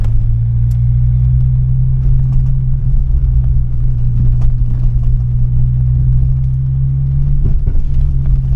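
A Fiat Uno Turbo drives along with a loud, steady engine hum and road rumble heard from inside the car, with only small variations in pitch throughout.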